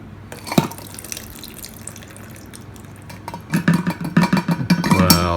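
Water pouring from a Magnum Steel 30 oz stainless steel tumbler holding ice, starting with a few scattered drips and then a louder, bubbling pour that builds steadily toward the end.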